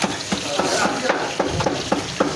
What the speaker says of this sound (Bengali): পেঁয়াজটা আদা ভাজা হয়েছে, পেঁয়াজ কাঁচামরিচ আদা ভাজা আছে